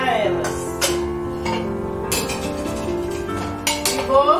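A metal pot and dishes clink and knock while cooking taioba with dried beef and calabresa sausage in a home kitchen, with several sharp clanks scattered over a steady background hum and no talk.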